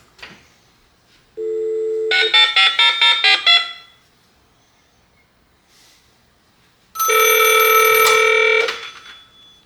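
A Viking E-1600A emergency phone rings in two bursts: a trilling electronic ring with rapid pulses, a pause with faint clicks, then a second loud ring.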